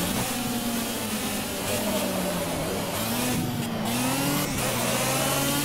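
Kart engine in Project Cars racing revs loud and close, its buzzing pitch rising and falling continuously as the kart accelerates and lifts through a lap.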